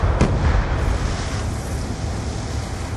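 A rocket explodes against a wall in the shooter game Black Ops 2: one sharp, booming blast near the start, then a rumbling, windy tail that fades slowly.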